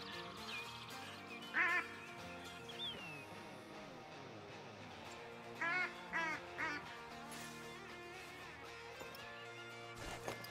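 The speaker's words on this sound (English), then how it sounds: "Oh, that's a big flock of ducks." A large flock of mallard ducks quacks from some distance in mountain terrain during a hunt, bursts of rapid quacking rising over a soft, steady outdoor background.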